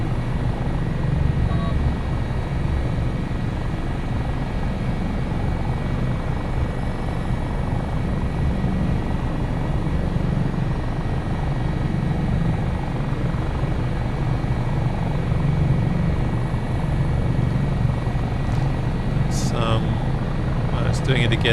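HH-65 Dolphin Coast Guard helicopter in MSFS 2024 flying near Valdez, Alaska, producing a loud, steady turbine whine and rotor drone that holds constant throughout, with a faint click near the end.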